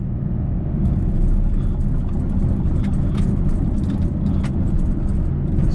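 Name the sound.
Nissan Rogue car driving after new spark plugs installed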